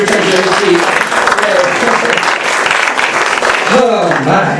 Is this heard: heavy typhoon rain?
no